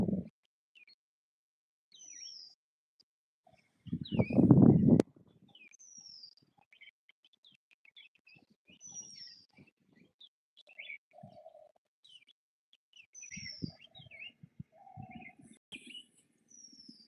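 Scattered bird calls ring out in a quiet outdoor setting, short high chirps repeating every couple of seconds, with a brief loud rustle near the start.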